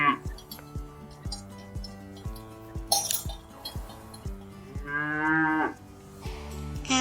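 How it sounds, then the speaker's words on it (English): A cow moos once in a long, drawn-out call in a cheerful children's animal-learning setting, set over bright, steady background music with light clinking notes. "Cows say moo."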